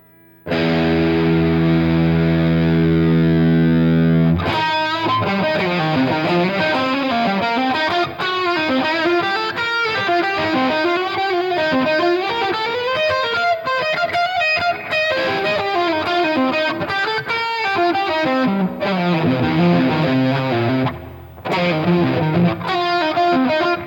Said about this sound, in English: it sounds like there's an amp being pushed to the brink of death right there